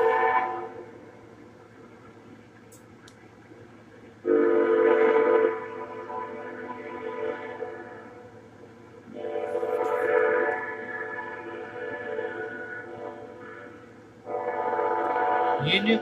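A Union Pacific ES44AC locomotive leads a southbound mixed freight train through Vinita, Oklahoma, a rumbling pass with horn blasts rising in loud surges over a steady low drone, heard from trackside.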